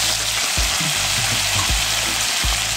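Pressed green plantain frying in hot oil, a loud, dense and constant sizzle up close, broken by a few low thumps, with no talking.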